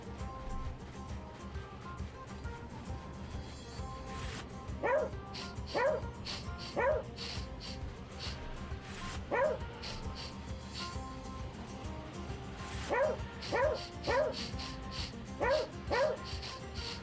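A dog barks in short bursts of two or three yips, repeated several times with pauses between, fairly near, over a steady low background hum.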